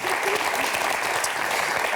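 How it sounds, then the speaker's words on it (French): A television studio audience applauds for a guest named Patrick, a dense, continuous burst of clapping heard close, with a voice speaking over it. "Applaudissements pour Patrick."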